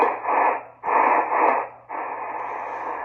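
Ten-Tec Paragon radio receiver putting out steady hiss and static from its speaker, swelling and dipping in loudness in a few broad waves as the volume is adjusted, with a low hum underneath.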